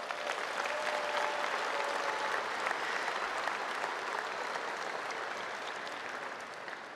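An audience at a college commencement ceremony breaks into sustained, dense applause, with many hands clapping steadily before slowly tapering off.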